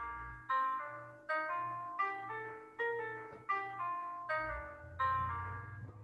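Jazz-style scale played with swing articulation on a wind instrument over a bass line, seven separate tongued notes in an uneven long-short pulse, each attacked sharply then fading, no talking.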